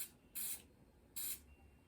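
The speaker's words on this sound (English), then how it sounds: "We're just taking a little bit of spray paint going around the edges" Spray paint hissing around the edges of a stuffed animal in two distinct bursts, each about a third of a second, close and crisp against a quiet room, with no talking.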